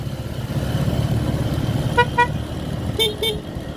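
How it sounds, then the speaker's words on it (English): A vehicle horn on a road in the Philippines gives two short toots, then two more, sounding over the steady drone of a nearby scooter engine and road noise. "And he give us a toot toot."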